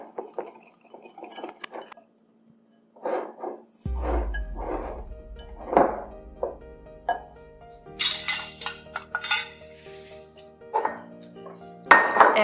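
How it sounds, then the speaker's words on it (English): Whisk clinking against a bowl as ingredients for double chocolate sweet potato muffins are mixed, with rapid uneven metallic taps close by and brief speech. "Whisk that together."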